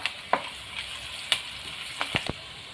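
Ginger pieces sizzle in hot oil for misal, a soft continuous crackle with a few sharp pops and spoon clinks over the gentle frying hiss.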